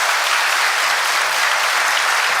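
An audience breaks into dense, continuous applause, loud and close, a uniform wash of many hands clapping with no break.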